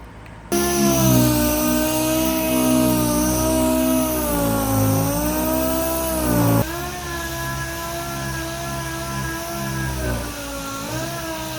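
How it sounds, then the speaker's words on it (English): A 6-inch orbital DA sander with a 6-inch interface pad, used on car paint repair: a steady, close, whining hum that shifts pitch slightly as pressure changes, starting abruptly and dropping in level partway through. "We're going to use it on a orbital DA 6-inch with a 6-inch interface pad"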